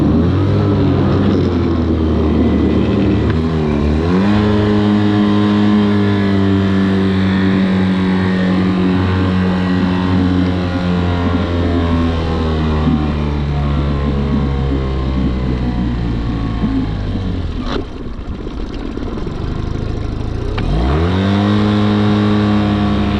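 A Mercury 9.9 HP outboard motor in neutral on an ultra-light inflatable air skiff revs loud and close, its whine climbing and falling in pitch across several throttle surges with no pause.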